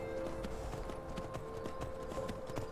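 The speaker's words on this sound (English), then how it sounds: "Horse is going to make too much noise." Horse hooves clip-clop in a steady, even rhythm in a video game, moderately close under a quiet low background hum.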